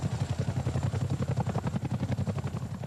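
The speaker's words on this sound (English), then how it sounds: "A Chinook lands at Boscombe Down for an exercise with a difference." A Chinook twin-rotor helicopter landing at Boscombe Down airfield, its heavy rhythmic blade thudding loud and close, pulsing steadily throughout with no talk over it.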